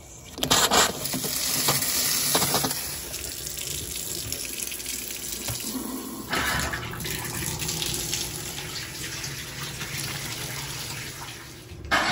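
Water gushes steadily from a tap into a sink, a close, continuous splashing rush with a few brief changes in flow.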